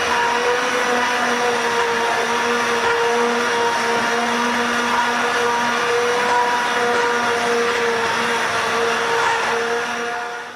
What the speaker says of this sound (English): So here we go, just blend that up.